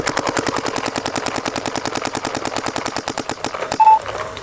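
Two paintball markers, a Planet Eclipse LV2 and a DLX Luxe TM40, fire rapid strings of sharp pops at a fast steady rate for several seconds, then stop. A brief electronic beep follows, and no one speaks.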